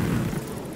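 Weapon fire from a helicopter in the video game Ghost Recon Wildlands, a short heavy boom with a low rumbling burst that fades quickly, no speech over it.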